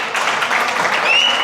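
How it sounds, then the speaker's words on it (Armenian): A small crowd claps together at a birthday celebration, giving steady, dense applause throughout, with voices mixed in underneath. "Գևորգի համար ծափեր տվեք"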